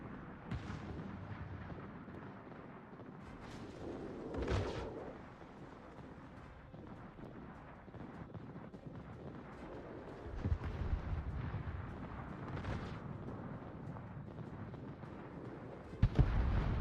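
Warship guns fire in World of Warships, a few faint booming shots spaced apart over a quiet low rumble, the last one sharper and louder.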